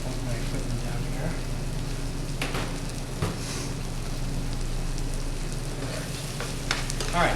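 Steady frying sizzle of chicken in a hot pan, crackling continuously with a few sharp pops and clinks of a utensil.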